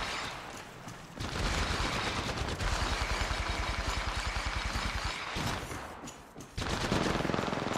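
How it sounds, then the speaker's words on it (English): Video game gunfire, sustained rapid automatic bursts with a rattling rhythm, broken by short pauses before firing resumes, loud and up close. "Opening fire."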